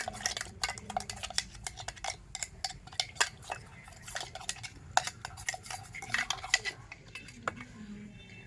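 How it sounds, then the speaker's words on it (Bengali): A mixer jar being rinsed with a small amount of water, giving rapid irregular clinks and knocks close by, with a faint swish of water under them and no talking. "অল্প একটু জল দিয়ে তো মিক্সি জারটাকে ধুয়ে নেব।"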